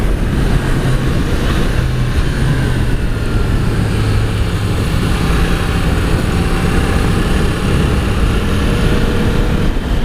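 A 2022 Yamaha MT-10 motorcycle is ridden hard through fast corners. Its engine drones steadily beneath loud, continuous wind rush, heard from the rider's position.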